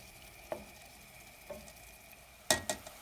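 Peas go into a pot of tomatoes and meat frying together, giving a soft steady sizzle with a few distinct clatters and splashes as they drop in, the last ones louder.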